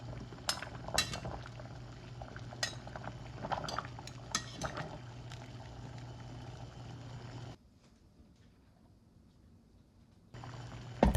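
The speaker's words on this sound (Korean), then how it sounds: "끓는 물에 당근을 넣어서 익혀주세요" Carrots simmer in a pot of boiling water, a steady bubbling hiss with scattered clinks of utensils against the pan, then a brief near-silent gap before the bubbling resumes.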